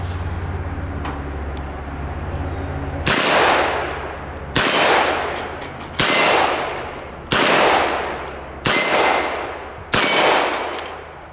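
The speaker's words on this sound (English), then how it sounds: "we've got our steel plates 10 yards down range. I'm gonna run a string in double action." Six double-action shots from a Smith & Wesson Model 15 revolver crack out at a steady pace, each followed by a ringing clang of steel plates ten yards downrange, loud and close.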